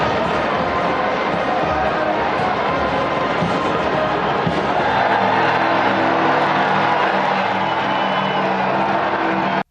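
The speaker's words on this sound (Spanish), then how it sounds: "Estallaron los aplausos de miles de fieles" Thousands of faithful in St. Peter's Square, Vatican, applauding and cheering as a military band and the Swiss Guard arrive: a steady, dense wash of distant crowd clapping and shouts, with a brass band entering partway through.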